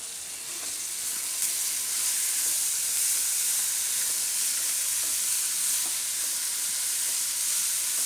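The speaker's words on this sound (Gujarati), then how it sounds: "અને આમાં આપણે હવે મેથી નાખી દઉં." Hot oil sizzling steadily in a pan of gunda and raw mango curry as fenugreek goes in, a continuous close, bright frying hiss with faint occasional stirring taps and no voices.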